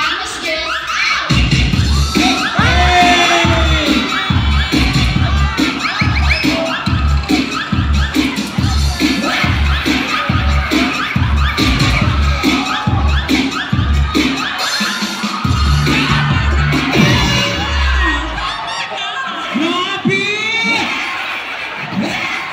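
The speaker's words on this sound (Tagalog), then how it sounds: "O karon ato masayran kung unsa jud kadaghan ang palakpak o ikaw sa mga higala, ha?" A festive outdoor crowd at a barangay celebration in Davao City claps and cheers for a contestant, with rhythmic clapping and shouts running loud throughout while an announcer talks over the noise.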